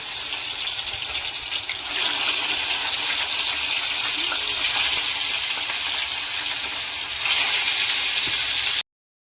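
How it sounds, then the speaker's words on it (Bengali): Rui fish rubbed with salt and turmeric hits hot oil in a pan, producing a loud, continuous hissing sizzle that holds steady throughout, with no talking. "তেলটা গরম হয়ে গেছে, মাছটা আমি আগে থেকেই নুন হলুদ মাখিয়ে রেখেছিলাম, এবার আমি মাছটা দিয়ে দিলাম।"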